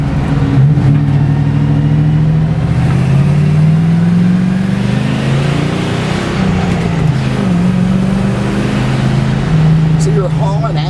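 A 1955 Ford F100 pickup truck drives along with its engine humming and rising and falling in pitch as it shifts and accelerates, loud and steady throughout with a voice talking over it.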